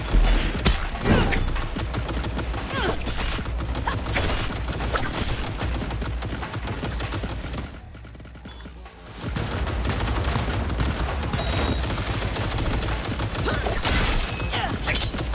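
Turrets firing in the video game Cyberpunk 2077 Phantom Liberty, a dense, continuous rattle of automatic gunfire that drops away briefly in the middle and then resumes just as heavily.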